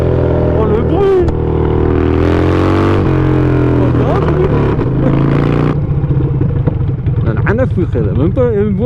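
A very loud motorcycle engine roars up close, its pitch rising and falling as the throttle revs, with a voice briefly speaking over it.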